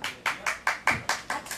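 Seven evenly spaced claps from mothers in the audience at a Korean pumba street show, fairly faint and crisp, with no other sound between them.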